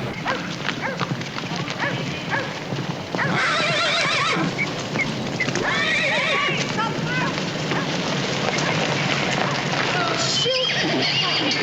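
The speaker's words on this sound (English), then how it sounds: "See those horses?" Horses whinny and neigh several times amid outdoor noise, with a dog barking now and then and faint hoof clopping.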